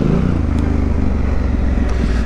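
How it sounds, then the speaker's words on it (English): Adventure motorcycle engine braking on a downhill trail, a steady low engine drone with continuous rumble close by and no talk over it. "plus I have good engine braking"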